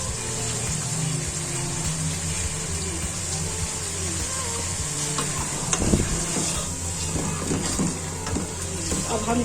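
Green chillies hit a hot pan of bhindi gosht with tomatoes, giving a steady close sizzle and frying crackle with light stirring clatter for the whole stretch, a little louder near the middle.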